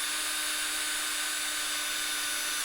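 Powered grease gun pumping grease to tighten a loose excavator track during a yard cleanup at an abandoned house: a loud, steady mechanical whir with a constant tone and no breaks.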